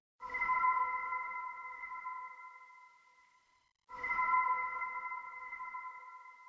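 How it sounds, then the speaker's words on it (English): Ambient synth pad one-shot from a sample pack, heard as a sustained, bell-like tonal chord that swells in and fades over about three seconds, then strikes again identically, with silence between. "that accent was also technically a pad"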